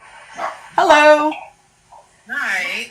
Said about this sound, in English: Why are you barking?